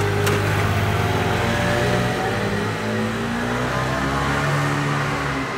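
A moped engine revs steadily and loudly nearby during a test drive, a continuous buzzing drone with slight rises and dips in pitch and no voices.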